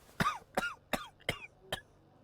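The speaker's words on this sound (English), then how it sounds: "Keeps coughing." A man coughs five times in a row in the video game Sherlock Holmes: The Devil's Daughter, sharp, evenly spaced hacks that gradually weaken, close and dry against a quiet background.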